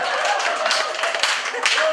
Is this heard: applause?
yes